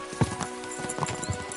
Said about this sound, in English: We should spur the horses on.